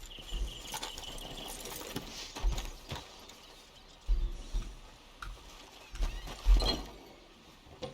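Horse hooves clip-clopping in Red Dead Redemption, with irregular bursts of footfalls and thuds over a steady outdoor game ambience, moderately close and no talk.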